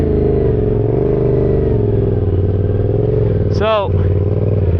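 A motorcycle engine hums and revs unevenly while riding a clutchless stunt circle using only gas and brake, loud and close with a steady throbbing drone, and a short spoken exclamation cuts in near the end.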